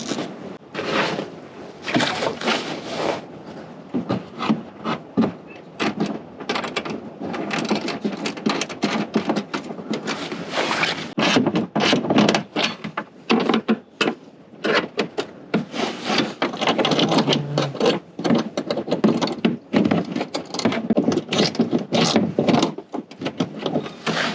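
Ratcheting and rubbing of a wrench snugging down a bolt and washer on a cold air intake under a Dodge Mega Cab 5.7, a steady run of close, scraping clicks and knocks throughout.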